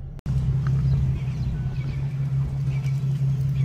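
Infiniti G37 with its mufflers deleted idles with a steady, deep exhaust rumble after a brief dropout at the start, continuous and fairly close.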